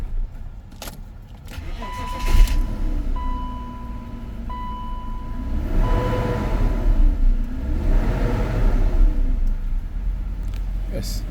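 A BMW 528i engine idles with a steady low rumble while people talk nearby, with a jangle of keys partway through and a rising whine from the engine bay.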